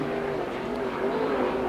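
410 sprint car lapping an oval track during qualifying at the USAC Oval Nationals, a steady loud engine drone with a slight pitch rise and fall as the car runs, no voices.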